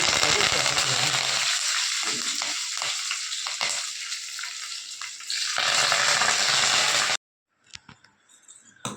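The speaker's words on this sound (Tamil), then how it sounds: "கடுகு உளுத்த பருப்பு வெந்துடுச்சு" Mustard seeds and urad dal sizzle and crackle in a pan for temple-style puliyodharai, a steady loud frying hiss for about seven seconds before cutting off, followed by faint scattered clinks.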